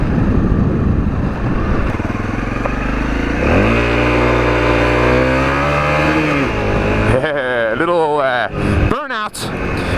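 Honda CRF 250L motorcycle doing a burnout in sand, loud engine revving with rising and falling pitch and wheel-spin roar, close by, with a person talking over it.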